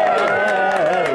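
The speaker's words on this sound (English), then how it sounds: "So I think they deserve a very big clap if you can" Guests at Joel and Eva's engagement party clap and cheer together in a loud, steady wash of crowd noise that fills the short moment, with voices mixed into the applause.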